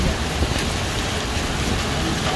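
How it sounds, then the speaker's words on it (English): A big hailstorm of golf-ball-size hail pounds down in a dense, continuous roar of impacts that stays loud and unbroken throughout, with no distinct voices over it. "Here comes the big hail. Big hailstorm."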